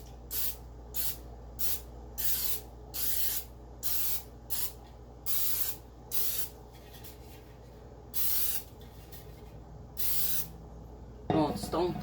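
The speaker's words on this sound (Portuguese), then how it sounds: "E eu gosto de usar esse spray de óleo vegetal" Vegetable oil cooking spray hisses in short bursts as a cake pan is greased, about a dozen sharp spritzes close to the mic with brief pauses between, ending with a clank of the pan.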